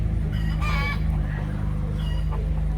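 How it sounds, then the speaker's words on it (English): Wild chickens and a rooster clucking in a park in Little Havana, Miami, with short clucks and cackles rising over steady outdoor street ambience. "there's some wild chickens"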